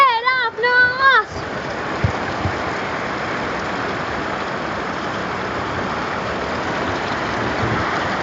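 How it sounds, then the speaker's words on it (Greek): Steady summer rain falls throughout, with dense broadband hiss and a low rumbling undertone like distant thunder; a voice is heard briefly at the start before the rain takes over. "Κεραυνός,"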